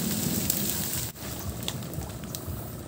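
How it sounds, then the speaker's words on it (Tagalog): Mud and debris patter down after an XXXL firecracker blast in a flooded rice field, a dense rain-like hiss of drops and clumps with one brief break partway through. "Umulan ng putik."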